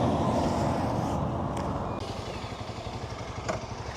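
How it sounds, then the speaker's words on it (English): A motorbike rolls along an old, abandoned, moss-covered road, its engine a steady low rumble with a rough, pulsing texture and a few brief knocks from the ride. "join me on my motorbike as we ride all the way along this old abandoned"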